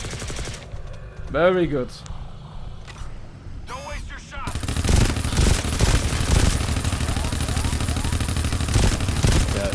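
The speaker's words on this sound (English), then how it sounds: "Deploy your turrets." Deployed sentry turrets in the co-op shooter GTFO open up in sustained, dense automatic fire after a short lull, a steady rattling barrage that continues to the end while players talk over it.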